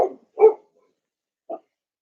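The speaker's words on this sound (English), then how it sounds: "You might be hearing my dog bark." A dog barks in a quiet room during a beginner yoga class, two or three short sharp barks spaced apart, mid-distance and fairly clear with silence between them.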